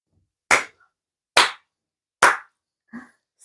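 A few sharp, separate hand claps ring out one after another, three loud and a fourth softer, close and alone with silence between them rather than a full crowd's applause.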